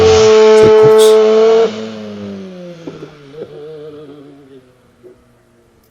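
Race car sounds created by AI play back, with a loud engine whine that holds and then drops away after a couple of seconds, followed by fainter revving and squealing that fades toward silence.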